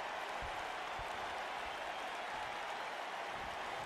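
A video game wrestling arena crowd in WWE 2K19 applauds and cheers in a dense, steady wash at moderate level, with no voices standing out.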